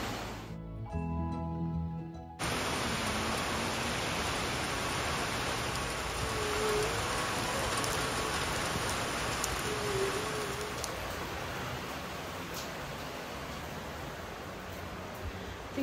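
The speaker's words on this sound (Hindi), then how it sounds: "बारिश लग पड़ी है" Steady rain falls outside, a dense, even hiss that continues throughout after a brief, quieter start.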